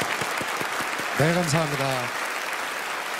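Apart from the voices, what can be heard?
audience applause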